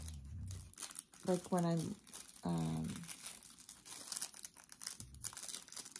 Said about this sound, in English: I wanted to open it without it crinkling so much.